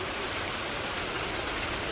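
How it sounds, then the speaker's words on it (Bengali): Steady rain falls in a village, a dense even hiss with no breaks and no voices. "মোটামুটি ভালো বৃষ্টি নামতেছে"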